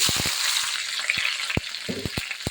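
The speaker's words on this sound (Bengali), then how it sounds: "তেলটা গরম হয়ে গিয়েছে আমি এখানে এখন পেঁয়াজ কুচি আর কাঁচামরিচ কুচি দিয়ে দিচ্ছি" Chopped onion and green chilli hitting hot oil in a pan, a steady loud sizzle with a few sharp clicks and pops from stirring, for a side dish of flat beans and potato.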